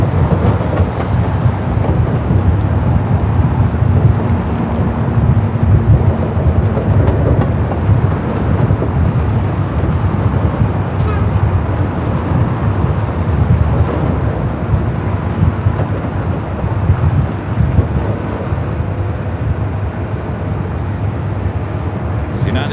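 A Lufthansa Boeing 747 in retro livery at LAX produces a steady, loud, broadband jet roar that holds for over twenty seconds, with wind buffeting the microphone throughout.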